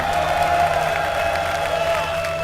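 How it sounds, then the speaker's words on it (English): Audience cheering and applauding at the MLG Columbus 2011 StarCraft II esports event, a steady loud crowd roar with whoops, continuous for the whole stretch. "If you would like to see Moon, the Warcraft 3 hero events, give a cheer for Moon"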